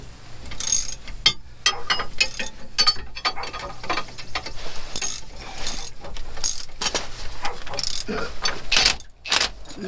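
Ratcheting wrench clicking as a bolt is tightened during installation of a Safe-T-Plus steering stabilizer on a motorhome, close, fast irregular clicks with faint metallic clanks.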